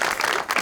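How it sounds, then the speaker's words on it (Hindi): Brief burst of audience applause in a studio comedy show setting, dense and steady clapping that dips for a moment and swells back, filling the short moment without speech. "तालियां।"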